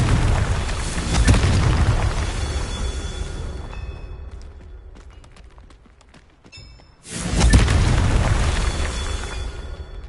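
Confringo fire spell explosions in Hogwarts Legacy, a loud booming burst with a roaring tail that fades over several seconds, then a second sharp blast erupting and rumbling on.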